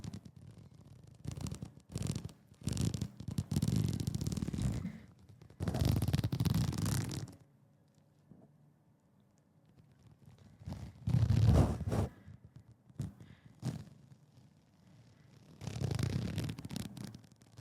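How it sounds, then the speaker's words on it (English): A zipper on a computer case is drawn slowly in several separate pulls, each a close, rasping stretch of teeth with quiet pauses between them, recorded for ASMR. "one of my favorite sounds when I'm listening to ASMR is like a slow zipper"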